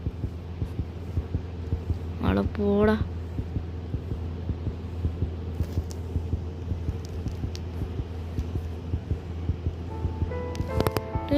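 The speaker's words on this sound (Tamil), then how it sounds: "நம்மளுக்கு எதுக்கு ஹார்ட் பீட் அடியுது?" A steady, throbbing heartbeat plays continuously in the Granny horror video game, a low pulsing thump under a hum. A voice speaks briefly in the middle and again near the end.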